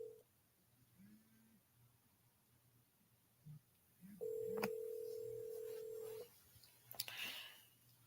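Telephone dialing tones over a phone line: a few soft clicks, then one long steady tone lasting about two seconds, followed by another burst of tones, all fairly quiet.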